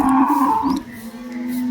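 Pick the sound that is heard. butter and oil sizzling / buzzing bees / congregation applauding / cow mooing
cow mooing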